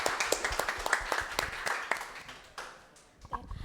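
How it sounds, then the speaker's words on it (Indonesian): Audience clapping at a live digital-literacy talk show, a burst of applause that thins out over a few seconds, with some crowd voices mixed in. "Boleh dong dikasih tepuk tangan dulu mungkin ya."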